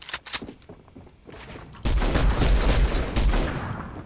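Bursts of rapid gunfire in Fortnite, sparse shots at first, then a dense, loud fusillade that keeps going.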